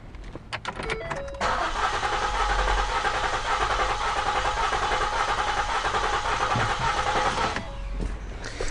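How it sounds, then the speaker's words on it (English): A used car's engine cranks briefly, catches and starts, then runs at a steady, loud, uneven-sounding idle for several seconds before the sound drops off near the end. "when I did crank this engine over, it did not sound consistent"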